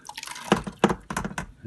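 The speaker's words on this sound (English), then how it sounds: "We pour all the blackberries into it." Blackberries poured into a pot of boiling water while making homemade blackberry wine, giving a few close, splashy liquid plops and drips in separate bursts.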